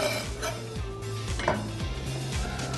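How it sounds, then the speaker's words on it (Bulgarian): A knife slices the green part of a vegetable diagonally on a cutting board in a home kitchen, giving a series of crisp, evenly spaced close-up chops with a faint clatter and no speech. "Зелената част, ето така по диагонал нарязвам, за да е по-красиво"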